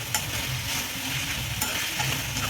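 Steady sizzling of chana masala ingredients frying in a pan, with occasional scraping clicks from stirring; continuous and close, no voices.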